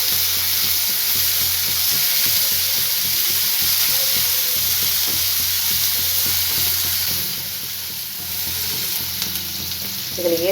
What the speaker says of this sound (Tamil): எல்லாம் சேர்த்து வதக்கிக்கலாம்.